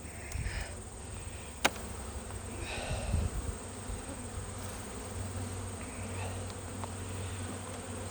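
Honey bees buzzing around an open hive, a soft, continuous drone of many insects close by, with faint handling noises and one sharp click, no speech.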